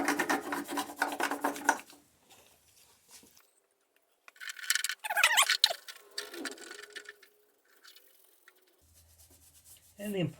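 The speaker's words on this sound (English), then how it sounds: "This is a green Scotch-Brite pad. Get a little bit of acetone on it, and just give a little bit of a scrub." A green Scotch-Brite pad wet with acetone scrubbed across a 2013 Mini N16 valve cover, giving close raspy rubbing bursts separated by quiet pauses.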